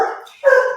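A dog barks and yips nearby in two loud, short bursts, with no talk over it.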